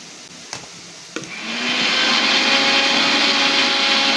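Two sharp clicks, then a mixer grinder grinding coconut whirs up and runs loud and steady, a high buzzing motor close by.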